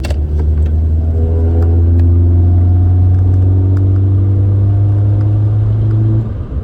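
A 1997 Toyota Corolla engine with a cold air intake roars at full throttle, a deep loud rumble with rising pitch for several seconds before easing off near the end.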